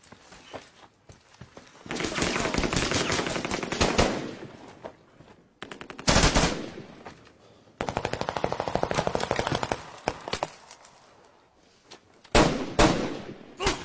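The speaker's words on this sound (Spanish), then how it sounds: "¿No escuchaste los tiros?" Bursts of rapid gunfire rattle out in several volleys, with sharp single shots between them and brief pauses separating the loud, dense stretches.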